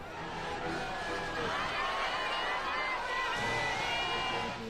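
A dense crowd throngs PM Modi's road show in Deoghar, a continuous outdoor roar of many voices and shouting that stays loud and steady, heard at a distance with no single clear speaker.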